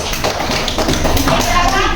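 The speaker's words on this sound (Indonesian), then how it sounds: "Berikan tepuk tangan kepada teman-teman yang ada di belakang." Classmates in an Indonesian classroom give a short burst of applause for the group at the back, the claps dense and close, with children's voices mixed in.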